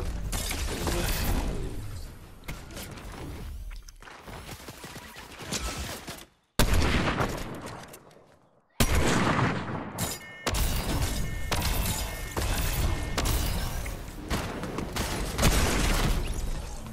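Shotgun blasts in Fortnite ring out in a dense, chaotic firefight, loud close shots mixed with rapid gunfire and crashing impacts, broken by two brief drops to near silence.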